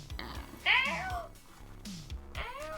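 A pet cat gives several short, soft meows with rising and falling pitch, fairly close and quiet against a faint indoor background.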